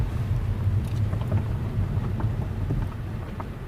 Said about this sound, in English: So it is raining a bit,